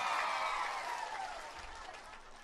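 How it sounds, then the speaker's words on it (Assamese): A crowd at an Assamese election rally for the chief minister breaks into applause, a broad wash of clapping that is loudest at the start and slowly fades, heard from within the audience without talk. "ঠিক কৈছো যদি হাত চাপৰি এটা মাৰক আকৌ।"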